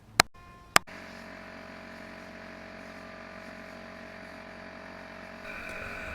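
A shop vac blowing air out through its filter: two sharp clicks, then a steady, loud rushing roar of motor and airflow that holds evenly and swells slightly at the end.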